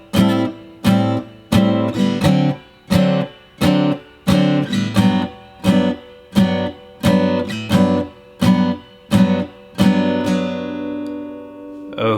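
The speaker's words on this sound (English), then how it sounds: "Learning how to play this iconic 2-5-1 chord progression" Jazz guitar comping through a 2-5-1 chord progression, short crisp strummed chords in a steady, evenly spaced rhythm, the final chord left ringing, played alone and close.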